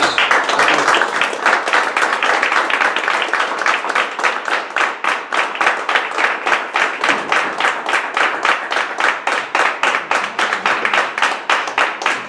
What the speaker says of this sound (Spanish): Un aplauso para la anotación del Guadalete